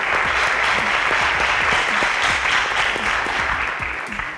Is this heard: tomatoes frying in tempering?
no